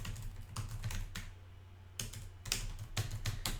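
A link being typed on a computer keyboard: close, crisp clusters of keystrokes in short rhythmic bursts with a brief pause in the middle, and no talk.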